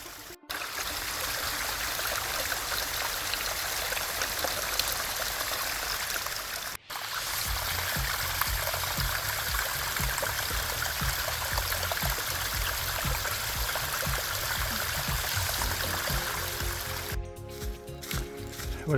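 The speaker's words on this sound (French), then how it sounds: "Voilà, encore une cascade." A small waterfall cascades along a hiking trail in the Ain and Jura valley, a continuous close rushing of water with brief dropouts and a muffled handling thump near the end.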